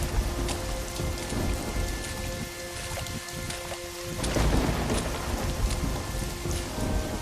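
Heavy rain pours steadily on surfaces through a thunderstorm, with rumbling thunder swelling midway and the downpour continuing loud and dense throughout, no voices.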